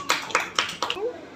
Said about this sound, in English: clap for Ayan, children